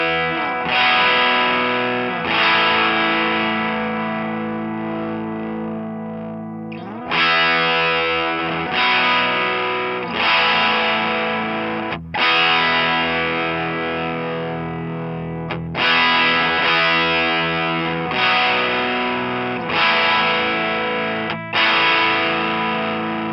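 Electric guitar played through a Great Eastern FX Design-A-Drive overdrive pedal and a small speaker, sustained distorted chords struck every few seconds and left ringing, loud and full, with no talking.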